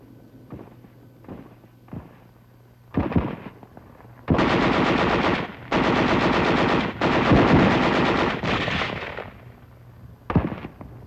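Machine gun fire in WWII battle footage from Okinawa, where infantry attack fortified hillside caves: a few scattered shots, then loud sustained automatic bursts of one to two seconds with brief gaps.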